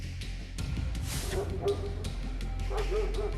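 Attack dogs at a guarded border barking and yelping in repeated sharp bursts, several dogs close together with a low background rumble, and no talking.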